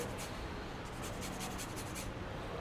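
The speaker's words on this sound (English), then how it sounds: "We're gonna zest a lemon." A lemon is zested on a microplane, a soft, rhythmic rasping scrape repeated back and forth at low volume over a steady background hiss.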